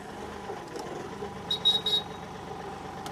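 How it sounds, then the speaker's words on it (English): A 2022 Bobcat CT4045 compact tractor engine runs at a low idle, faint and steady, with a short burst of three high electronic beeps partway through. "I'm going to take this time to start this tractor."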